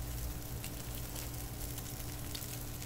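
Bacon and hash browns frying on a Blackstone 22-inch griddle, giving a steady, close, hissing sizzle with scattered fat pops throughout.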